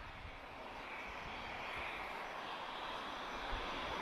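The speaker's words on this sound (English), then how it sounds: "And obviously now a cargo aircraft, so that's ASL" Steady, distant roar of a cargo airliner's engines, formerly an Alaska Airlines jet now flown by ASL Belgium, drones at an airport as a continuous, faint broadband rush with no talk.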